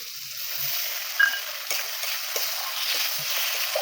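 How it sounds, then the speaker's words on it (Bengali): A spice paste with ground tomato sizzles and fries in oil while being stirred, giving a soft, continuous crackle with occasional scraping strokes, moderately quiet and close, with no talking. "মশলাটা ভালো করে কষিয়ে নেবো"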